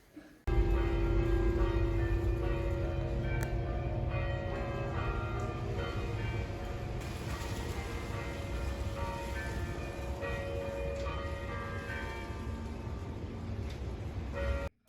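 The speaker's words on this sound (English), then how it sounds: "We hear the bell ringing. It's from a church in the town." A church bell in an Italian town rings steadily with sustained, overlapping tones, heard from some distance over a low background rumble.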